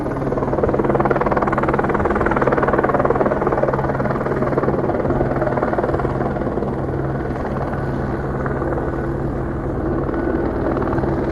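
A helicopter hovers overhead in broad daylight, its steady rotor drone and engine hum loud and continuous throughout, with no talk.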